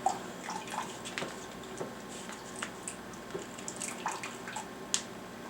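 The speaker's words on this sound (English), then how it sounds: "And then we'll drain it just like this." Excess water drained from a Mountain House freeze-dried meal pouch, heard as a close, uneven run of small splashes, trickles and drips with brief crinkly bursts, steady and fairly quiet throughout.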